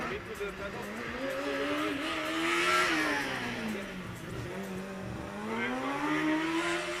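An electric Formula Student race car's motor drones continuously at high revs during an endurance event, pitch rising and falling as it speeds through turns, steady and fairly loud with no talking.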